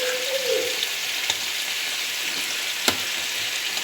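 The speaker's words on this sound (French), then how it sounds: "On fait revenir nos légumes comme ça." Vegetables with bell pepper, carrots and a spoonful of peeled tomatoes frying in a pan, giving a steady faint sizzle throughout with a couple of soft clicks from stirring.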